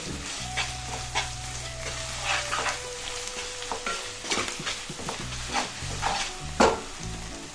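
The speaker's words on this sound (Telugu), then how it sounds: "ఇందులోనే ఒక స్పూన్ పసుపు వేసుకోవాలి రుచికి సరిపడగా ఉప్పు వేసుకోవాలి ఒకసారి మిక్స్ చేసుకుందాం మొత్తం" Gongura leaves sizzle in a pan as turmeric and salt are stirred in, with repeated scraping strokes of a spoon over a steady frying hiss and a faint low hum.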